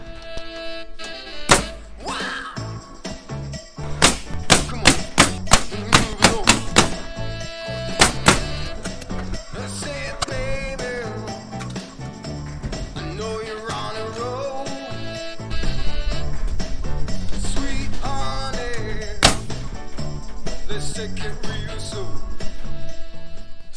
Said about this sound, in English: how I'm nailing this rough cut siding on